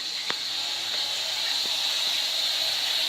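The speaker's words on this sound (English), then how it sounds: "The burner kicks in instantly." A home boiler's burner runs with a steady hiss, a constant close whoosh broken by a few faint clicks, no voices.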